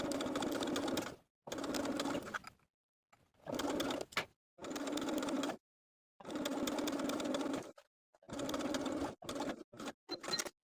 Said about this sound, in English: we're going to be basting once again using the longest stitch on your machine, stretching the elastic slightly from pin to pin